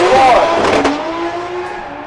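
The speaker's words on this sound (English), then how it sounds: "The car sounds healthy right now." Drift car during a competition qualifying run, a loud engine rev and tyre noise that fades away over about two seconds, with faint commentary underneath.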